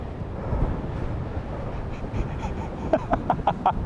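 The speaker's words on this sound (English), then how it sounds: "Oh, we don't need gusts. That is ridiculous." Gusty wind on an English golf course rumbles and roars across the microphone as a steady, loud, broadband buffeting, with a few brief, sharper sounds near the end.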